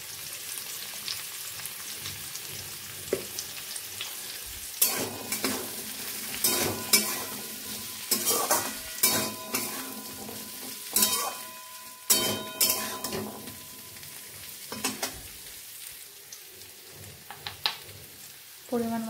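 Ground spices—turmeric, cumin powder, salt, ginger and garlic paste—stirred as they fry in a pan for ghugni, with a steady sizzle broken by repeated scraping and clattering strokes of a spatula against the pan, close and fairly loud.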